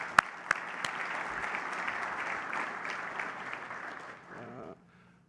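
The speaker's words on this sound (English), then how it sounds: "I just love to give the NCOs a big round of applause" Applause from a keynote audience, honoring NCOs: a steady broadband wash of many hands clapping, fairly distant and soft, with a couple of sharp nearby claps at the start, fading out near the end.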